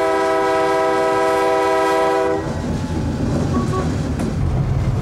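A freight train hauled by two General Electric 4,000-horsepower locomotives passes close by; a loud sustained horn blast sounds first, then cuts off, leaving the heavy rumble and rattle of the rolling cars.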